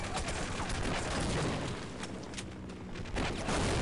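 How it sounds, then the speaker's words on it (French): An explosion in the video game Half-Life with the MMod modification comes as a loud, dense roar with overlapping blasts and gunfire-like bursts that swell and fade, with no speech. "the explosion was too strong"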